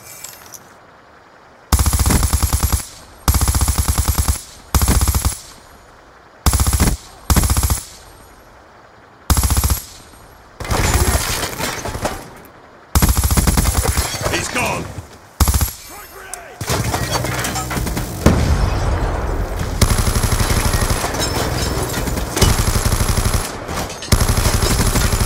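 Heavy machine gun fire from a VTOL warship in Black Ops II rips out in loud repeated bursts, short blasts separated by brief gaps, then longer sustained strafing runs, with game voices in between.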